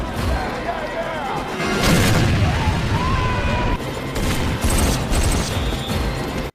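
Gunfire bursts out during a prison riot scene in a film, with booming shots, crashes and rumbling chaos layered over a dense, loud mix for several seconds.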